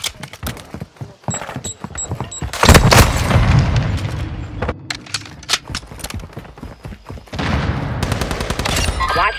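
Heavy gunfire in Call of Duty Mobile multiplayer on the El Asilo map: sharp automatic bursts and loud booming blasts crackle close by in dense, uneven volleys throughout.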